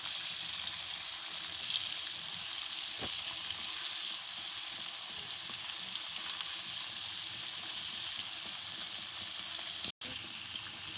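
Chicken pieces for a zinger burger fry in hot oil, a steady, even sizzle at moderate volume that continues throughout, broken by one brief click near the end, with no talking.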